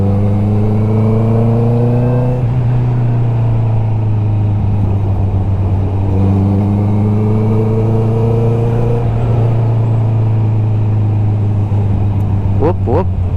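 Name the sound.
car exhaust engine revving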